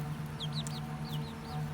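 Young leghorn chicks, a likely rooster among pullets, peep and cluck in short rising chirps, several close calls over a steady low hum.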